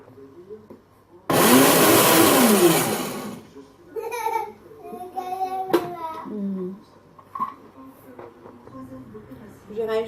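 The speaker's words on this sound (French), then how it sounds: "je rajoute mes morceaux comme je vous ai dit tout à l'heure dans mon mixeur. Et ensuite, je vais le mettre à fond." A kitchen blender running at full speed purées cassava and banana for fritter batter in a loud two-second roar, followed by clattering and a voice talking.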